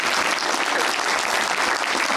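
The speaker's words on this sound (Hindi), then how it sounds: "तालियां इसके लिए, तालियां तालियां" A live television studio audience claps, a dense and loud burst of applause that runs steadily through the whole moment.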